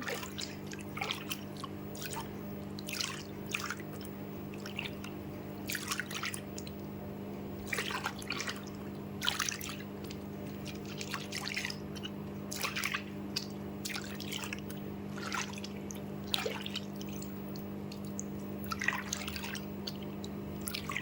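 Water stirred with shampoo in a foot-soak basin for a home pedicure, giving repeated small splashes and drips over a steady low hum, close by and with no talking.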